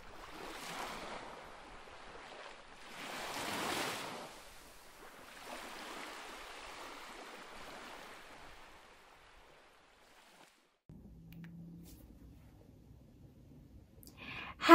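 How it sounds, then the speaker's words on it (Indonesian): Ocean waves breaking on a shore near a coastal house, a few soft rushing swells rising and fading one after another, faint and airy, followed by a quieter stretch with a low hum near the end. "Itu adalah deburan ombak, karena rumahku dekat pesisir pantai."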